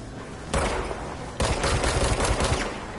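Rapid gunfire in the video game Control, dense bursts of shots starting abruptly and continuing loud and close, with a second heavier volley joining partway through.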